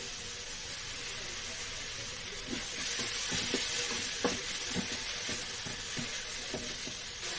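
Onions sauté with quiet, steady sizzling in a pan, with soft intermittent scrapes and taps from stirring.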